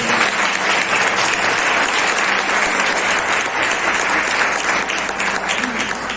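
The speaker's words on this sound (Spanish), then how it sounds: "Denle un fuerte aplauso al Cristo de la gloria." A church congregation breaks into loud, sustained applause, a dense wash of clapping that holds steady from start to finish with no break.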